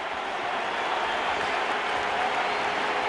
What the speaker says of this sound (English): This crowd here at Fenway right now is applauding the ejection of Alex Rodriguez.